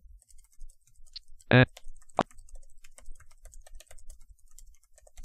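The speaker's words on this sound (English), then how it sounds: "I'll just continue typing." Quiet, rapid clicking of computer keyboard keys runs steadily throughout, close and soft, briefly interrupted by a couple of short synthetic speech-like bursts.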